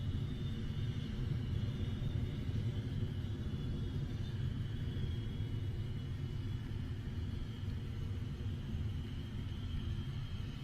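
Electron rocket climbing through max Q, a steady, dense low rumble that holds loud and unbroken throughout, with a faint higher hiss layered above and no voices.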